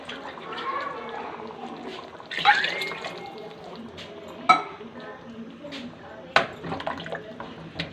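Water splashes into a metal cooking pot amid clinks of utensils, with a few sharp knocks against the pan and a voice speaking over it.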